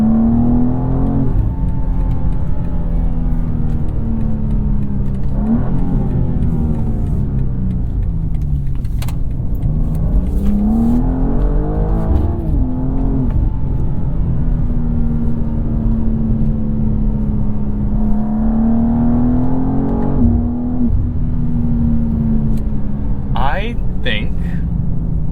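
A 2023 BMW M2 with a six-speed manual accelerating on the road, its engine note climbing and dropping through several gear changes, loud and close inside the cabin, with a voice talking over it.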